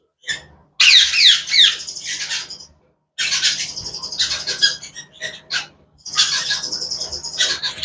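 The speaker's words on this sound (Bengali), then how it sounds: "এই একটা টিয়া পাখি আর এই যে একটা টিয়া পাখি" Two tame white parrots squawk nearby in three loud bursts of harsh, scratchy screeches separated by short pauses, with rustling between the calls.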